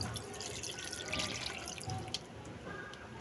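Water, about 750 ml, is poured into a cooking pot for a pork dish, making a steady, soft splashing and trickling sound for a few seconds, fairly quiet and close, with no talking.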